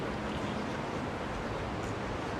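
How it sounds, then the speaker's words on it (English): Steady rushing water from a waterfall-style fountain at a building on a Manhattan street in New York City, a continuous broadband wash heard fairly close with no talking. "They got a nice waterfall or something."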